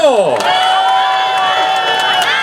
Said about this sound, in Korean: 다시 한번 뜨거운 박수 보내주십시오